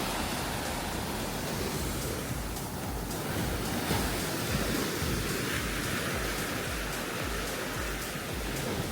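Rough ocean surf in the Seychelles, a dense, continuous roar of breaking waves and spray that stays loud and steady throughout with no voices.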